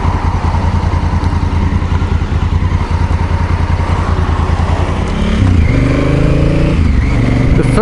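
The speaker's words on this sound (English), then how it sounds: "The first thing you'll notice tearing along on this is the exhaust note. For a stock muffler is very burbly." Honda CRF1000L Africa Twin motorcycle with a stock muffler riding along, its burbly exhaust loud and steady throughout, then shifting to a revving, rising engine note near the end.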